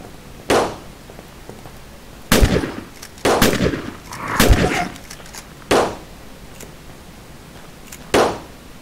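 Gunfire in the zombie survival game Fort Zombie, a series of separate sharp shots spaced irregularly, some in quick clusters, over a quiet background.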